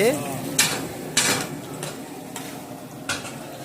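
Mirchi bajji, chilli fritters, frying in hot oil: a steady low sizzle with periodic stirring scrapes and clinks of utensils, close by, with people talking over it.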